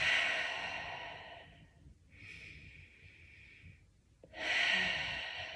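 Deep, slow breathing during a stretching flow, with long audible exhales and a softer breath between them, close and unaccompanied by talk.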